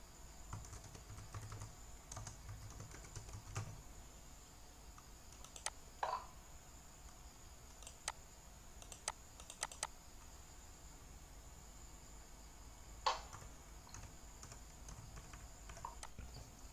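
Scattered keystrokes tap on a computer keyboard as data goes into an Excel spreadsheet, sparse and quiet with irregular gaps and a few sharper clicks over faint background hum.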